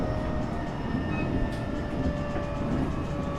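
Inside a moving train in Japan: a steady, close rumble of wheels and carriage with faint rhythmic clatter and a brief high squeal, continuous and even throughout, with no voices.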